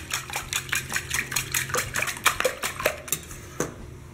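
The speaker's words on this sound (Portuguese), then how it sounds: "Já dá uma batidinha para misturar tudo, né?" Oil and milk being whisked together in a bowl for a rustic meat pie dough, a quick run of light clinking and tapping strokes, close and fairly steady, tapering off at the end.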